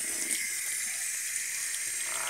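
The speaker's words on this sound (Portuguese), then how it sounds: "coloca água" Water is poured onto soil in a grandmother's vegetable garden, a steady, soft splashing hiss that runs unbroken and alone at moderate distance.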